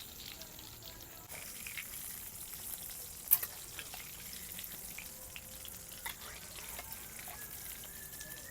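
Chicken cutlets fry in oil over medium heat in a village kitchen, giving a faint, steady sizzle with one sharp clink partway through.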